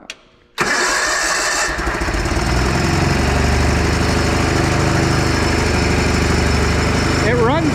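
A Kohler small engine on farm equipment cranks briefly, catches and settles into a steady, loud running drone close by, with a voice talking over it near the end.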